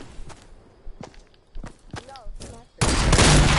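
Shotgun blasts in a first-person shooter video game, a few sharp reports scattered among footsteps, followed by a loud sustained burst of noise, with players' voices chattering over it.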